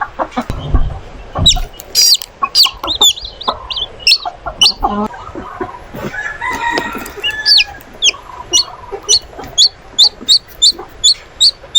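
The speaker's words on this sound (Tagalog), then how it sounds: "Ito yung sisiw na palabas pa lang." A chicken chick hatching from its egg, taken from a nest on a farm, peeps in sharp, rapid bursts close by, while hens cluck and a rooster crows among the fowl, with no talking.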